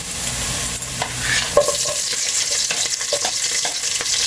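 Onions and tomatoes hit browned ginger in a pot for pork sinigang, giving a loud, close sizzle with repeated stirring scrapes and clinks over a continuous frying hiss.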